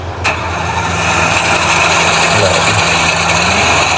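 A Massey tractor engine starts with a brief crank burst, then settles into a steady, loud, close idle that runs on evenly for several seconds with no talk.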